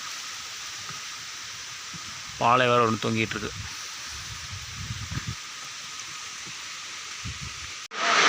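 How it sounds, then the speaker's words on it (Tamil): Rain falls outdoors during work, a steady soft hiss running the whole time while someone speaks briefly over it. "மழை சவுண்டு தான் கேட்கும்"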